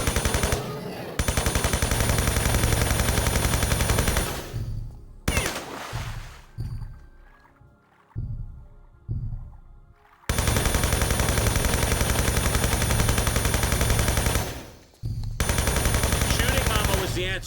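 Rapid automatic gunfire from a weapon in Tomb Raider III, loud sustained bursts that cut out abruptly, a stretch of broken shots and gaps, then another long burst before a final stop.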